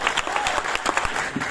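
A festival audience at Marwah Studio in Noida claps harder on request, with a brief, full burst of brisk, even hand clapping throughout.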